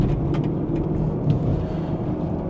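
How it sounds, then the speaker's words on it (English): Turbocharged BMW B58 six-cylinder in an X3 M40i SUV with the exhaust opened up, a steady deep rumbling drone heard from inside the car, no talk over it. "But once you open these exhausts up,"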